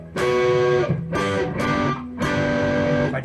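Electric guitar with a distortion effect strikes a short chord progression, three or four ringing chords in quick succession, loud and close with brief gaps between them.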